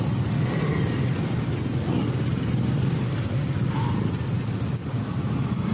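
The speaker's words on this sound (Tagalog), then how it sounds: "Maririnig yung mga andar ng mga motor" A continuous loud rumble of motorcycle engines in traffic, with motors humming and revving close by and no talking.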